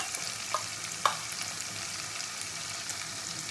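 Green chili paste frying with onion and ginger-garlic paste gives a soft, steady sizzle in the pan, with a couple of faint clinks of stirring near the start.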